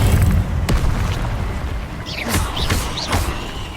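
Incendio fire spell firing off in Hogwarts Legacy: a sharp crack early on, then booming blasts layered with rising whooshing streaks and a few bright zips toward the end, loud and close with no talk.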